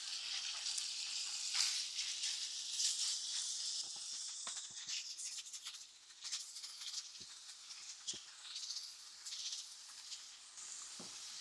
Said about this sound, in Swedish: Och så steker vi på kycklingen tills den blir färdig.